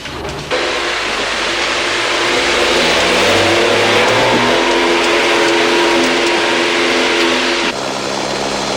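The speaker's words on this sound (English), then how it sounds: "On board with Johannes de Rooij in his self-built hybrid DAF truck" Loud on-board engine roar from a self-built hybrid DAF rally truck at the Dakar Rally 2002, sustained and revving with shifting pitch throughout, cutting briefly near the end.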